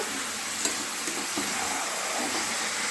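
Chicken being mixed with other ingredients and cooked in mustard oil, giving a soft, even sizzle with a few faint stirring clicks.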